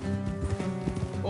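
Horses trotting along an off-road trail in Red Dead Redemption 2, a steady clip-clop of hooves close by under game music, with a brief whinny.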